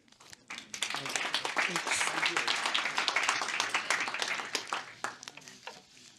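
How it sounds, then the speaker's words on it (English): Audience applause at a symposium, a dense burst of many hands clapping that swells, holds loud and fairly close for several seconds, then fades out at the end. "I think we could continue giving a round of applause for your fantastic wrap-up"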